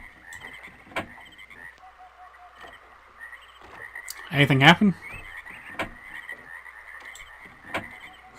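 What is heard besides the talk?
frog croaks in Myst video game background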